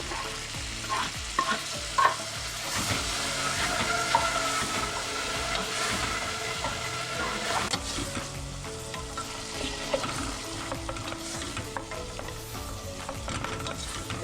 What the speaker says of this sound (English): I like crushing the tomatoes